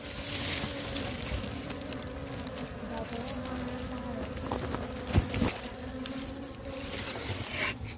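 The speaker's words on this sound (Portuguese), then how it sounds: "já capturei a abelha, vocês estão vendo aqui, né?" A swarm of European honey bees buzzes steadily and close during a capture, a dense continuous hum with a few brief knocks partway through.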